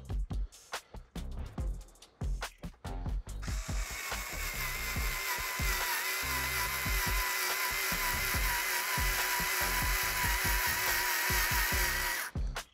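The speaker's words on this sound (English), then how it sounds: "I could even try to use our little screwdriver here to try to drill this little hole here" A small screwdriver drills a little hole, starting with short choppy bursts and then running as one steady whirring buzz for about eight seconds before stopping abruptly.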